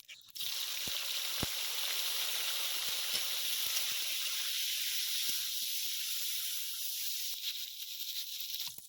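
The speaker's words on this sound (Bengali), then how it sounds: "এবার আমি ভেন্ডিগুলো ভেজে নেব" Okra (bhindi) frying in hot mustard oil in a kadai, a steady close sizzling hiss with a few faint clicks and taps throughout.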